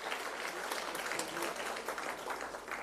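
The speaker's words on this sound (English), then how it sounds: "Can we give them a good round of applause?" At a TVET institution forum seminar, a conference audience gives a round of applause, a faint, steady, even wash of many clapping hands heard from a distance.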